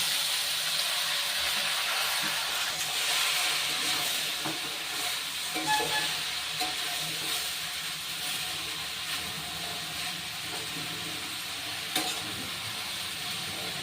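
Ash gourd pieces hitting hot mustard-seed and green chili oil in a pan give a steady, dense sizzle and frying hiss that continues throughout at close range with no one talking.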